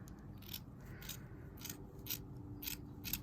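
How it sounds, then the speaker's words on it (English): Scissors snipping off the loose end of a rope, about six quiet, evenly spaced crisp cuts close by against a faint background hum, with no talking. "we're gonna go ahead and cut off this loose part"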